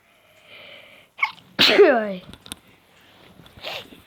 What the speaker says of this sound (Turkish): Hapşırıyorum ya resmen.